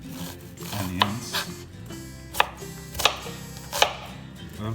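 Knife chopping red onions on a board for a kachumbari salad, with several sharp, irregular cuts standing out against a low, steady background rumble.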